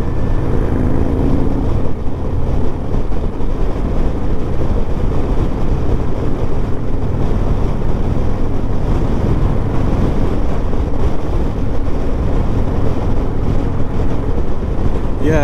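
Steady, loud wind buffeting and road roar on a 2023 or 2024 Harley-Davidson Road Glide motorcycle at speed, a continuous low rumble of engine and rushing air with no pauses, close to the rider.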